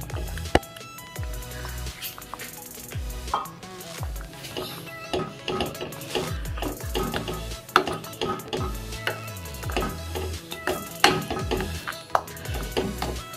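Mango puree being added to kesari and stirred in a pan, with repeated clinks and scrapes of a spoon against metal over a soft sizzle, busy and close.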